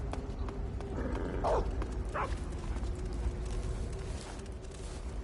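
A dog barks in Metal Gear Solid 3: Snake Eater, a couple of short yaps amid steady background game noise, with no speech.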